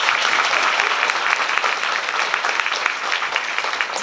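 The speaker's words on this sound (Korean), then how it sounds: "큰 박수 한번 보내주세요." An audience at a Korean music talk show gives a round of applause, with brisk, dense clapping that holds evenly for about four seconds and no clear voices over it.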